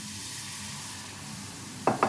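Chicken stock bubbles and sizzles in a pork chop pan sauce with lemon and thyme, a steady close hiss broken near the end by two sharp scrapes of a utensil against the pan.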